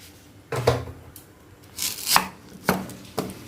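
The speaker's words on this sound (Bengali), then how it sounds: "পেঁয়াজটাকে কুচিয়ে নেব।" A knife chops medium-sized onions in a few separate, sharp cuts with short pauses between them, close by and clear against a quiet kitchen background.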